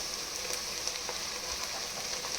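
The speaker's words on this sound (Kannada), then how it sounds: "ಈಗ ಮೆಂತ್ಯ ಸೊಪ್ಪು ಹಾಕ್ತಾಯಿದ್ದೀನಿ" Fenugreek leaves frying in a pan for menthya rice bath, giving a steady close sizzle with soft crackles and light stirring throughout.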